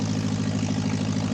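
A light aircraft's engine runs up at the top of a runway near a clifftop aerodrome, a loud steady propeller drone with a deep rhythmic throb, close and continuous with no voices.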